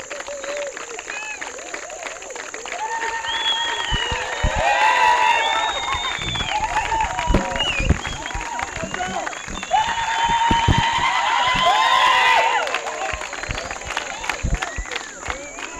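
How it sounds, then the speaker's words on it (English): Audience applause mixed with scattered cheers and whistles at a farewell for a retiring colleague, clapping rising in two louder waves over a murmuring crowd with voices in the background. "A round of applause."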